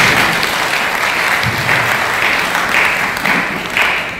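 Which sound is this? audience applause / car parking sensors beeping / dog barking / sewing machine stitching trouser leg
audience applause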